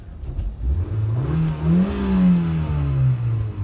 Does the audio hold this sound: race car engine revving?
yes